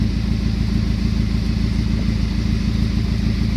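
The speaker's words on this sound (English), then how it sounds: "Look how hard it's misfiring." A 2017 Camaro 2.0 turbo four-cylinder idles roughly with a hard misfire and a dead number one cylinder, giving a steady, uneven, stumbling thump close by.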